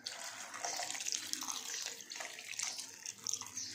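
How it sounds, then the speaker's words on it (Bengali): Arrowroot slurry water pours into a cooking pot in a steady, soft trickling stream, close but quiet, with no one speaking. "এর মধ্যে দিয়ে দেবো অ্যারারুট গোলার জলটা"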